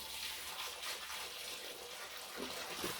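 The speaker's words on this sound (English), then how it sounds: "what I need to do now is to get back to watering" Steady water flow splashes and hisses continuously while a garden is being watered, with a soft, even rush and no talking.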